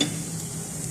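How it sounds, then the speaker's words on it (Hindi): Chicken fries in a pan over a high flame, giving a short, steady sizzle up close with faint stirring. "ये बस चिकन मैंने हाई फ्लेम पे भून लिया है।"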